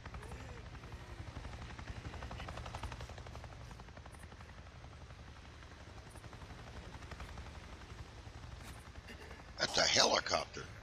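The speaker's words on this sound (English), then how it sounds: "That's a helicopter." A helicopter in Days Gone passes over with a steady low rotor drone throughout, joined near the end by a louder burst of noise.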